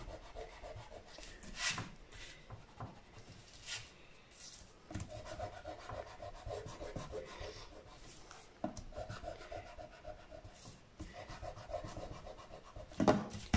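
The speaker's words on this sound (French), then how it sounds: "Je vais gommer ça." A pencil eraser rubbing marks off paper while making a gift box, giving soft irregular scrubbing strokes in bursts, close and fairly quiet, with no talking.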